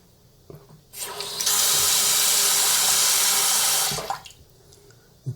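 A bathroom sink faucet is turned on and runs in a strong, steady hiss of water for about three seconds before being shut off, close and loud, with quiet room sound before and after.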